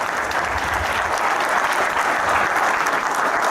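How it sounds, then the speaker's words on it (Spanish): Audience at a science lecture applauding steadily, a dense, loud wash of clapping hands that fills the room without letup. "vamos a pedir al público, por favor, nuevamente los aplausos"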